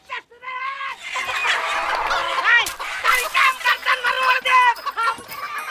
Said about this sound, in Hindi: मुर्गी महाभारत फिर शुरू